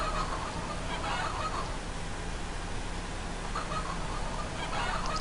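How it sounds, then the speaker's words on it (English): Chickens in Farming Simulator 2015 on a snowy farm, soft scattered clucks and squawks over a steady hiss of ambient noise, fairly faint and without talk. "well, it's fucking chickens, isn't it? Chickens."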